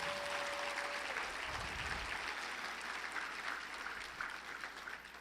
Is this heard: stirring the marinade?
no